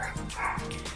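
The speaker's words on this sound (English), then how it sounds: "If you can hear my dog barking right now" A pet dog barks and yips in a quick series of sharp, fairly loud bursts close to the microphone, indoors.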